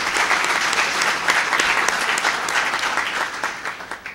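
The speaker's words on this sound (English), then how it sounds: "So I'd like to give them a round of applause, Dr. Cheatham and the school district." Steady applause from an audience at a school African American History Challenge Bowl fills the space, thick and even, tapering off slightly at the end.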